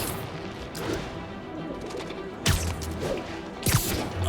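A pigeon coos in the video game Marvel's Spider-Man Remastered, soft and close, broken by two sharp, loud impact bursts midway and near the end.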